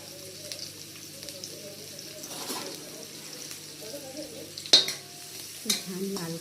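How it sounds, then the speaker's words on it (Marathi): A generous amount of onion frying in oil in a kadhai gives a low, soft sizzle, broken by a few sharp metal clinks and scrapes from stirring near the end, with a voice talking faintly. "कढईत सर्वप्रथम तेलात कांदा, भरपूर असा कांदा छान लाल करून घ्यायचा"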